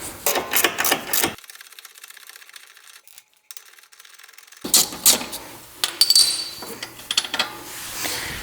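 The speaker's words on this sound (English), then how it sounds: "I'm going to use a ratchet" A ratchet loosens a nut on the sway bar link of an Öhlins coilover on an R33 Nissan Skyline GT-R, giving close bursts of quick mechanical clicks before and after a stretch of silence.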